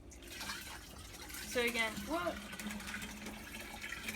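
Dirty water is poured back into a fish bowl while cleaning it, trickling and splashing steadily with a few bubbly glugs midway, as a person talks over the pour.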